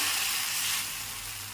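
Buttermilk dosa batter with onions hitting a hot griddle, a loud bright sizzle that settles slightly as it cooks, with no voices.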